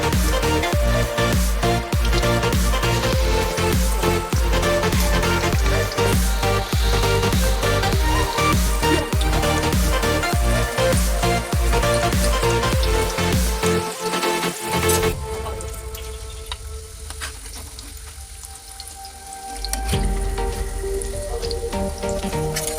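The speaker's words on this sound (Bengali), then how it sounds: "গোল চামচটা গরম করে এর ভিতরে তেল দিয়ে বেটারটি দিয়ে ভালোভাবে ভেজে নেব।" Piyaji batter fries in hot oil inside a round spoon, a dense, loud crackling sizzle that runs continuously, thinning to a quieter bubbling for a few seconds before rising again.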